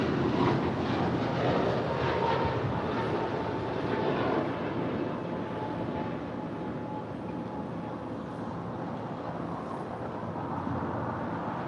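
American Airlines jet takes off at LAX, a moderate, fairly distant engine roar that holds steady and eases off slightly toward the end, with no talk.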